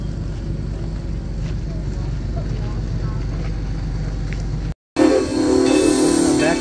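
A steam train engine rumbles with a deep, steady drone, briefly cutting out before resuming louder and rougher, with indistinct voices in the background.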